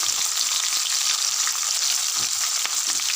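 Chopped onion frying in hot oil with cumin seeds for a potato masala curry, a steady close sizzle with a few soft stirring scrapes and no talking.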